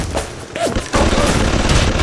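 An automated turret in the BioShock video game rattles off rapid, loud bursts of machine-gun fire, a dense close fusillade that briefly dips then resumes and keeps hammering to the end.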